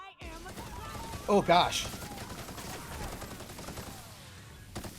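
Gunfire in the video game The Outer Worlds, a short burst of shots crackling in the middle amid steady game noise, with a brief spoken exclamation over it.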